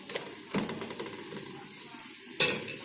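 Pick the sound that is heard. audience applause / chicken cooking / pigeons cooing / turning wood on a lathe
chicken cooking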